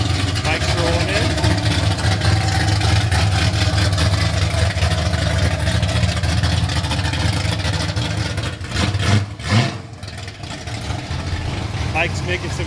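A classic car rolling in at an outdoor car show, its engine giving a deep, steady rumble close by with a brief surge of revving near the end, while people talk over it.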